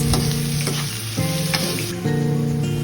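Ginger, garlic, onion and tomato sizzling loudly in hot oil in a pan, a dense continuous fry with a few stirring scrapes, close and uninterrupted by speech.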